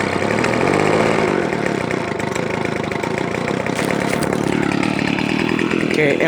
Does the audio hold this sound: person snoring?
no